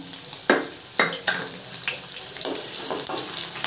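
Chopped small onion dropped into hot oil for a Bengali chicken kosha, giving a steady bright hiss of frying with a few louder crackling bursts as the pieces hit the pan; no talking.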